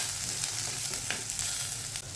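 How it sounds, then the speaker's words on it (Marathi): Curry leaves frying in hot oil for a sprouted moth bean curry, heard as a dense continuous sizzle close up, with faint stirring scrapes underneath. "कढीपत्ता देखील फ्राय होतो छान तेलामध्ये"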